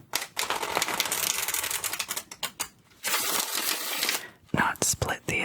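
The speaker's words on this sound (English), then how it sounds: "it makes it very difficult for me to shuffle these large decks of cards" Large tarot cards being shuffled by hand in bursts of crisp riffling and slapping, close and fairly loud, with brief pauses between rounds and no voice.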